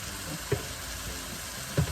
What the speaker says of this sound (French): On va laisser brunir la viande.